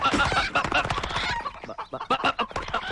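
Chickens cluck and squawk in a flurry of rapid, close calls, loud and busy with brief pauses, set in a comedy scene where loose fowl meant for slaughter are being chased.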